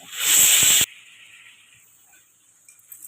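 Green chillies dropped into a hot pan with tomatoes give a sudden loud sizzling hiss for under a second, then a much quieter simmering fizz that fades away.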